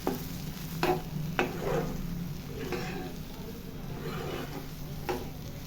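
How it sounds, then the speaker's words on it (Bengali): Ridge gourd mash fries in mustard oil while a spatula stirs it, making a soft continuous sizzle with several distinct scraping strokes spaced a second or so apart, fairly faint and close. "এই সময় শেষের দিকে ভাজা ভাজা হয়ে এলে ওই সময়টা ভালো করে একটু খুন্তি দিয়ে নাড়তে হয়"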